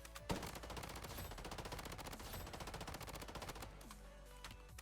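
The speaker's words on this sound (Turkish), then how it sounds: "şarjör hemen boşaltıyor yani çok seri hızlı vuruyor" Rapid automatic gunfire from a weapon in the video game Blood Strike, a dense unbroken burst of shots that nearly empties the magazine, loud and close, ending with a brief mechanical click.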